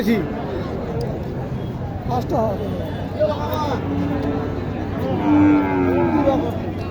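Cattle moo repeatedly at a busy cattle market selling Shahiwal and improved-breed heifers, the lowing rising over steady crowd chatter and nearby voices talking.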